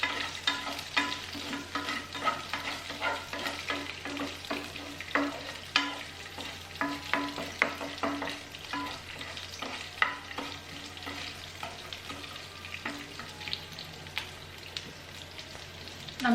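Dal sizzles in a pan with curry leaves and green chillies, a steady close crackle of frying broken by repeated scraping stirs.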